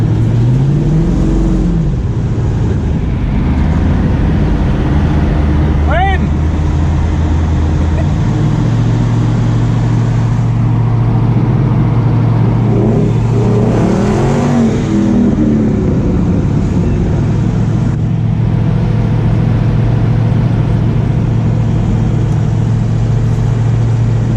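A twin-turbo LS-powered Chevy streetcar cruises along a city avenue, its low engine drone holding steady from inside the car, with a brief shift in pitch partway through and a rising whoosh near the middle.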